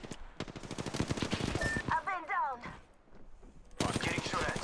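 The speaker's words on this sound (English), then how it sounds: "I'm getting shot at." Rapid automatic gunfire in the Apex Legends video game, a dense burst of repeated shots over the first two seconds, then a gap and another loud crackling volley near the end, with game voices and effects mixed in.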